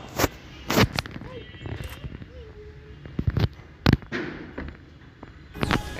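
A grenade blast in the Free Fire battle game comes through as sharp explosive bursts and pops, several loud hits spread across the stretch with crackling gunfire between them, while faint talk runs underneath.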